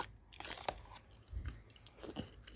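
Someone chews fried catfish close to the microphone, soft crunches and wet chewing sounds in an irregular rhythm, quiet and with no talking.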